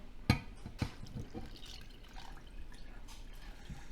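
Water poured into a teriyaki sauce mix of sugar and Golden Dragon teriyaki sauce, a light splashing trickle with a couple of sharp early drips, then a softer continuous pour.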